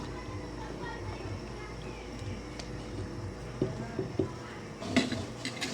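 A spoon scrapes and clinks against a pot while monggo stew is stirred after fish sauce goes in, with a few sharper clinks near the end over a steady kitchen background and faint voices.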